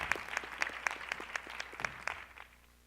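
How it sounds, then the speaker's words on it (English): A conference audience at an education summit gives a panel a round of applause, a modest, steady patter of distinct claps from a fairly small crowd that thins out and stops after a couple of seconds. "Join me in giving this panel and David Johns another round of applause."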